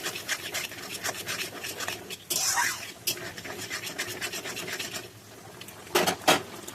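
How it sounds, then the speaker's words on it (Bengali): Spice masala being stir-fried in a pan for a light tangra catfish curry, with soft repeated scraping and rubbing strokes of a utensil, fairly faint, plus a few louder scrapes and a brief spoken word. "এইবার আমি মশলাটাকে ভালো করে কষাবো"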